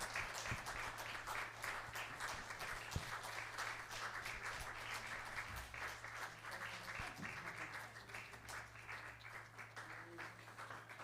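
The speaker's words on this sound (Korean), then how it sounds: "박수로 축하드립니다" A congregation claps at a Korean Presbyterian Sunday worship service, giving steady, even applause that lasts throughout at a fairly soft level.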